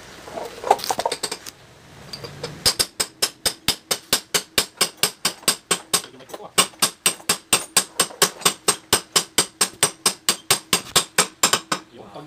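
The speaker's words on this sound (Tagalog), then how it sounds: "Yan, pukpok na natin yung timing gear mga kabro." Hammer tapping on the timing gear of a 19-year-old Honda TMX155 motorcycle during engine work, a long run of sharp, evenly spaced metallic strikes, close and loud, following a brief scrape and shuffle at the start.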